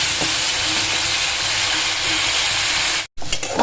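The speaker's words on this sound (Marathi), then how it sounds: "मोठ्या गॅसवर हे असं भाजून घ्यायचं आपल्याला." Bitter gourd roasts in a pan over a high flame, giving a loud, continuous frying hiss that cuts out briefly near the end before resuming.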